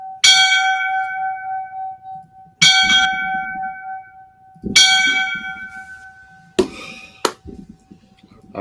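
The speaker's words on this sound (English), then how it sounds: "she deserves the 5 bells" Church-style bell struck in tribute to a fallen EMS worker, loud and close, ringing four clear separate strikes with long decaying tones between them, the last two coming quicker.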